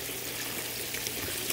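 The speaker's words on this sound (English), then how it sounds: "This is all just recirculating water in here." Water recirculates through a homemade gold prospecting sluice box in a steady, close trickling wash, with light splashes over a constant pump-like hum.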